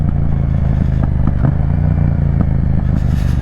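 Yamaha MT-07 motorcycle with an aftermarket exhaust pipe riding in third gear, a loud, close, throbbing twin-cylinder drone with a rhythmic pulsing beat and occasional clattering pops, no voices.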